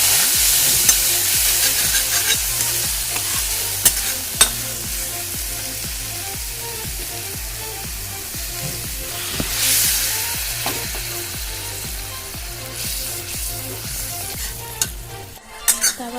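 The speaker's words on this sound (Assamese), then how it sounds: "তাৰপাছতে এনেকৈ পানী দিয়াৰ পাছতে অলপ লৰাই দিছোঁ মই" Fish curry with small puthi fish stirred in a pan after water is added, a continuous bubbling sizzle with a rhythmic scrape and clink of the ladle, close and without speech.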